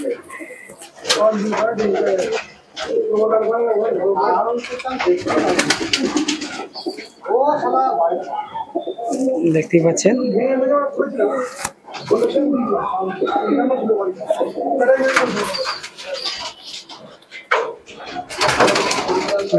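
A pair of breeding pigeons cooing close by, repeated low throaty coos in bursts with brief gaps, someone talking over and between them, plus occasional rustling and clicks.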